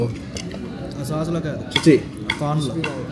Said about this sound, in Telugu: క్రిస్పీ కార్న్లో సాస్ కలుపుకుని